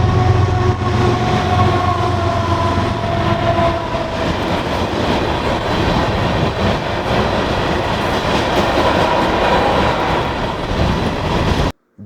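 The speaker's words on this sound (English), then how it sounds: "we go to Cloquet and catch this BNSF taconite train" A long BNSF taconite freight train rolls steadily past on the rails, loud and close, with a continuous rumble and rhythmic clatter of wheels that cuts off abruptly at the end.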